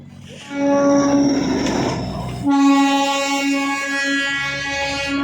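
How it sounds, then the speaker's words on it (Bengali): The Darjeeling toy train's horn sounds in long steady tones, then a louder second blast, over the rumble of the train passing nearby. "টয় ট্রেন দেখলি?"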